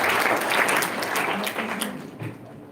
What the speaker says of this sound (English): We give a loud round of applause to